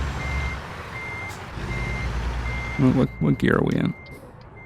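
A truck's reverse alarm in American Truck Simulator, steady evenly spaced high beeps repeating throughout over a low diesel engine rumble, with someone speaking briefly near the end.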